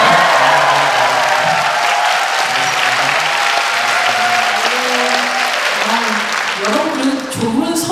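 Dense, sustained applause and cheering from a book-launch talk audience fills the whole stretch, steady and loud, with voices mixed into the crowd noise.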